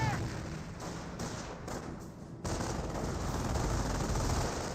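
Sustained automatic gunfire rattles through a Company of Heroes battle, a dense continuous barrage with a brief dip before resuming louder, with faint voices underneath.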